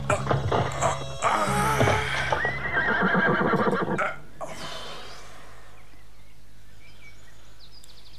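Horses pulling a carriage neigh loudly in repeated whinnies with rapid clip-clopping hooves, the sounds crowded together for about four seconds before fading to a quiet background.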